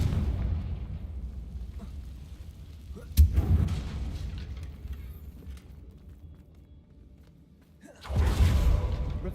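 A Confringo blasting spell goes off in Hogwarts Legacy as a deep boom, and a second rumbling burst follows a few seconds later over low, continuous game ambience.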